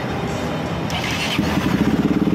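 A Kawasaki RS200 Fi motorcycle engine catches after a moment of cranking and settles into a steady, rhythmic throbbing idle, close and fairly loud.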